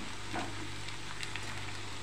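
Steamed sago hits a hot pan and sizzles, making a dense, even hiss with a few faint crackles, close by and steady throughout, while no one speaks.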